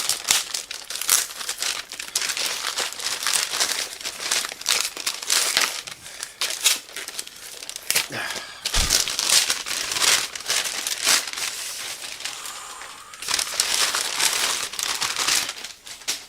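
Protective wrapping around a parcel holding a Superman comic book is torn and crumpled open, giving close, loud, continuous crinkling and ripping with brief pauses, no talk.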